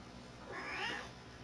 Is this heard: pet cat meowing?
yes